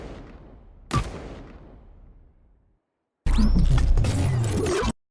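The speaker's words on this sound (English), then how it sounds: "Maybe it's like a, I don't know, a cute flare gun." A playful cartoon flare gun effect for a Plants vs. Zombies: Garden Warfare 2 imp character: a sharp pop over a fading whoosh, a brief silence, then a bright fizzing burst with rising whistles that cuts off abruptly.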